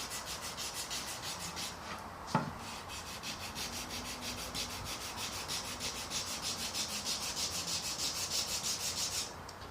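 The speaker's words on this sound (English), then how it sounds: "The trick to having an even roundover is to stay consistent with the amount of sanding that you do." Fingers steadily hand-sand a small roundover along the edge of a guitar top, producing a continuous rhythmic scratchy rubbing that runs from start to finish, with one brief sharp knock early on.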